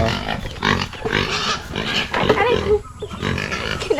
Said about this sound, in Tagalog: sabik na sabik itong baboy namin kumain